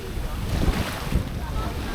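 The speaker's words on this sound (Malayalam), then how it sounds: "ഇത് നല്ല തിരയുണ്ടല്ലോ" Sea waves washing around a boat off Agatti island, a steady broadband roar of surf and water mixed with wind buffeting the microphone, with a couple of heavier low thumps from waves slapping the hull.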